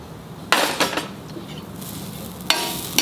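Grated coconut roasting in a hot pan for a dry shrimp curry, with a few sharp stirring scrapes and clinks against a faint low sizzle, close and otherwise quiet.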